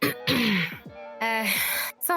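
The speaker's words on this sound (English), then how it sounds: "I cough to get his attention." A person coughs and clears their throat twice in a quiet room to get someone's attention, two short rough bursts close to the listener.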